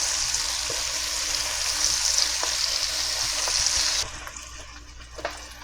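Oyster mushroom fries crackle and sizzle steadily in hot frying oil, a dense close hiss that drops to a quieter bubbling in the final moments, with a few soft clicks.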